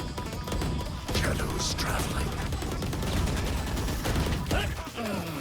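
Dense gunfire in the video game Valorant, sustained rapid shots and impacts filling the whole stretch, loud and continuous, with game sound effects layered over it.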